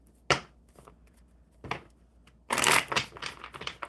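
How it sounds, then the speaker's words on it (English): Oracle cards being shuffled in brisk bursts: a sharp riffle, a softer one, then a longer dense flurry of card flutters, close and fairly quiet with no talking. "Get these shuffled up really quick."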